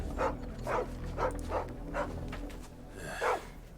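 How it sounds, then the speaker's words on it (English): A dog barking in Final Fantasy XVI: about seven evenly spaced barks in a steady rhythm, then a slightly louder final bark, fairly close, over a low ambient hum. "hearing the dog"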